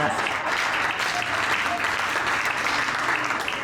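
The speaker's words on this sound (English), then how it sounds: "You guys can clap." Audience at a panel on local and regional food systems applauding, a continuous even wash of many hands clapping throughout, moderately loud and steady.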